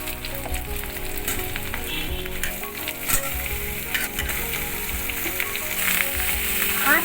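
Bottle gourd and boiled potatoes stirred in a hot pan over raised heat, a dense crackling sizzle with frequent scraping strokes of the spatula, close up and without voices.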